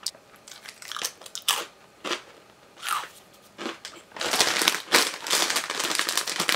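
Seasoned bagel chips are bitten and chewed close up, with a run of sharp, dry crunches that grow denser and louder toward the end.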